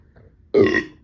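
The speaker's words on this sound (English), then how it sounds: "I'm going to be burping all night now" A single loud, close burp after a meal of Wendy's burgers and imported soda, short and abrupt, following a moment of near silence.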